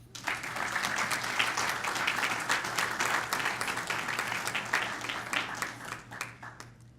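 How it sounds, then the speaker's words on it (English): Sustained audience applause at a school district Teacher of the Year luncheon, dense clapping from a sizable crowd that holds steady for several seconds before tapering off. "Let's have a big round of applause for our 2018 Elementary Teachers of the Year."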